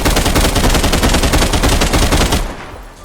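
Loud, rapid automatic gunfire from an AK rifle fitted with a compensator and vertical grip in the shooter game Contractors, a sustained burst of close shots that stops abruptly and leaves a short decaying tail.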